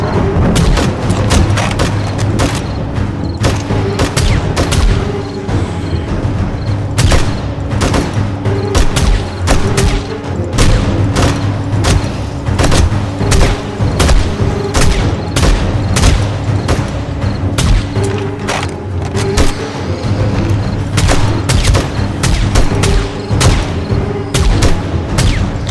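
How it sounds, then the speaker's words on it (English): Video game sniper rifle firing during a horde round at a race track, sharp loud shots repeating in quick irregular succession over a dense backdrop of constant battle noise and booms. "The sniper rifle's impressive."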